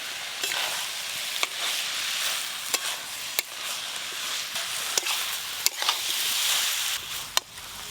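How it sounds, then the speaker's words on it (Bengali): Fried cabbage, potato and prawns sautéed with spices in a pan, a constant sizzle broken by sharp clicks of a spatula against the pan at irregular intervals, close and with no talk. "ভেজে রাখা বাঁধাকপি, আলু দিয়ে আর একটু মশলার সাথে কষবো"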